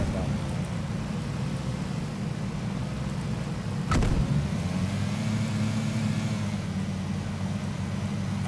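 A car engine drives steadily in the battle royale video game Battlegrounds, a low continuous rumble with one brief sharp burst midway, heard close and under players' voices.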